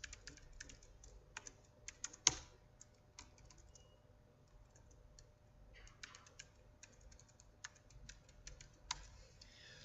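Quiet, close clatter of keys on a computer keyboard as commands go into an R console on Windows, in uneven bursts with brief pauses and a few harder keystrokes.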